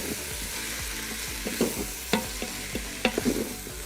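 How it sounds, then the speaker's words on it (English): Garlic being stirred in a hot Instant Pot, with a spoon scraping and knocking against the inner pot in several spaced strokes over a soft, steady sizzle, close and moderately quiet with no talking. "we're gonna add a little bit of garlic"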